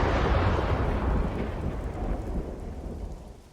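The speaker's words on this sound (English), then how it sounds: "a streak of lightning goes arcing across the skyline, creating a huge sound effect" Thunder rolls loud and close over heavy rain, a deep rumble that swells at the start and slowly fades across the storm's continuous downpour, with no voices.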